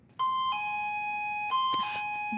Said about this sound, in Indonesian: Kau dengarkan bel pintunya berbunyi?